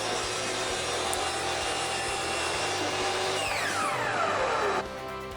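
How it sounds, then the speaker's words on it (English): A sliding miter saw cuts through dimensional lumber, a steady loud whine with a descending sweep as the blade slows near the end, then drops away to a quieter hum. "telescoping miter saw or sliding miter saw is really a helpful tool in my shop"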